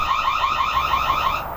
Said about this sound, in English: You can set off an alarm.